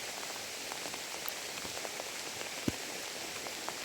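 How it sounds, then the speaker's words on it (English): Rain drums steadily on a canvas tent roof during a thunderstorm, a dense soft patter with a few sharper drops standing out, heard close from inside with no voices. "the tent is absolutely pouring with water, not inside but on the roof"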